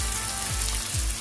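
Sliced capsicum, tomato and vegetables for manchurian sizzling loudly in a hot pan, a continuous close frying hiss with no voices.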